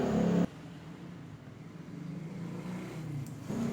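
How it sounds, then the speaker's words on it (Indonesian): A motorcycle engine catches and settles into a steady idle right after its fuel injector has been cleaned, with a low continuous rumble and a slight rise in revs near the end. "Ya, motornya sudah menyala."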